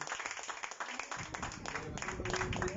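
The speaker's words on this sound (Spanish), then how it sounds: "Dale un aplauso" Church congregation clapping and applauding after a call from the pulpit, a dense crowd-wide patter that builds and holds steady at moderate distance, with some voices mixed in.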